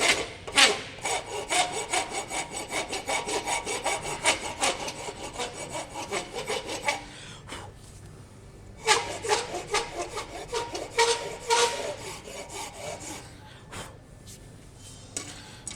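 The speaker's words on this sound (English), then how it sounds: "So I go back to the horseshoe rasp at the back here. Just take all of that material off on the back" A horseshoe rasp is worked over knife handle material in quick rough back-and-forth strokes, a dense scraping rhythm that pauses briefly and then resumes.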